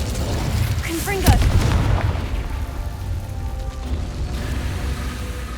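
A Confringo fire spell explodes in a video game: one sharp, loud blast near the start, followed by a rumbling tail that fades into a lower, steady background.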